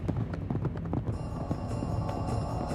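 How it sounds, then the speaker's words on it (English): Horses galloping in pursuit, a run of rapid clip-clop hoofbeats in a steady fast rhythm, fairly near and continuous throughout, with no talk over them. "They had not gone far when soldiers could be heard giving chase. Their fast horses were gaining steadily."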